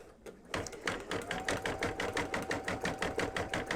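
Sewing machine stitching with metallic thread, a fast even mechanical chatter of the needle running close and steady after a brief pause at the start.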